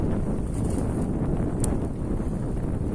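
Steady wind blowing outdoors on a street in Amsterdam, a dense continuous rush buffeting the microphone with low rumble throughout, no clear voices.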